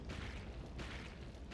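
Boss laser cannon blast from Dark Souls 3, a loud sustained booming rush with two bright surges roughly a second apart, alone without talk.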